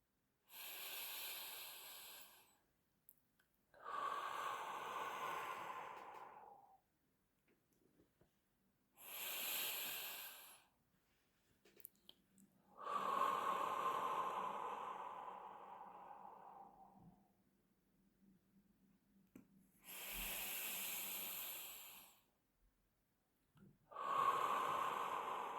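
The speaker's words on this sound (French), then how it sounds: "je vous propose de prendre 3 respirations qui vont vous permettre de vous relaxer" Slow guided deep breathing for relaxation, three long audible inhale-exhale cycles of airy breath sounds separated by quiet pauses, close and soft.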